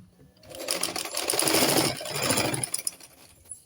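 A sewing machine stitches fabric and skin illusion net for a deep neckline, starting after a brief pause, then running in a close, fast mechanical burst with a short slowdown before tapering into a few separate clicks.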